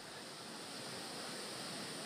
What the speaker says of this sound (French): Elle est jolie la cascade là.